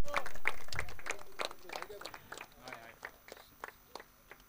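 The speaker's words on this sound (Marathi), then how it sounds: "संतोष संसारेसाठी टाळ्या होत्या." A crowd claps for Santosh Sansare, Man of the Series at a local cricket premier league prize distribution. A dense burst of clapping fades into scattered, separate claps.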